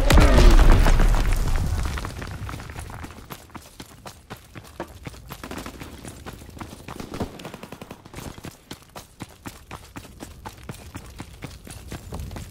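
Heavy bomb blasts and gunfire in the World War II shooter Call of Duty: WWII, a loud booming explosion opening the scene, then a dense run of sharp shots and smaller bursts continuing underneath.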